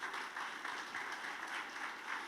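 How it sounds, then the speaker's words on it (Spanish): Applause from a church congregation during a sermon, a soft, steady wash of clapping heard from some distance and holding evenly for about two seconds. "denle un aplauso al Señor"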